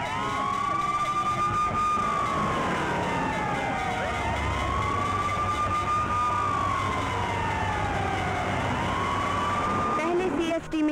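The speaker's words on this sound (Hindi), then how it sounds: "रास्तों पर लोगों का हुजूम और माहौल में एम्बुलेंस और पुलिस वैन की आवाजें" Ambulance and police van sirens wail over crowded Mumbai streets during a terror attack in a Hindi film scene, with repeated rising-and-falling tones held steady and fairly loud over a dense background rumble.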